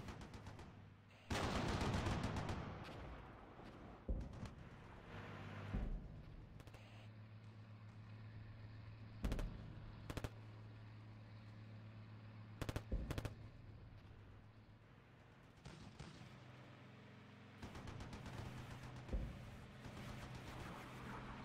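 Gunfire in the Armored Brigade war game, bursts of sharp shots and rattling volleys with single cracks scattered between them, over a steady vehicle engine drone.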